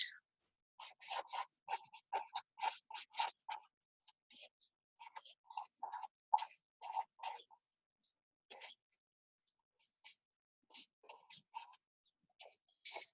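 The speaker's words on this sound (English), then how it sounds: "So again, let's write" Handwriting on paper during a phonics lesson, heard as short dry scratching strokes in quick bursts separated by brief pauses, close and clear against near silence.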